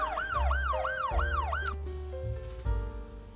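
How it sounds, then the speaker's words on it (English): An ambulance siren in the Cities Skylines 2 city-building game wails in a steady repeating rise-and-fall pattern, loud and close, over a low traffic rumble, before shifting to steadier held tones. "We lost sight of the other ambulance, so it's still behind us."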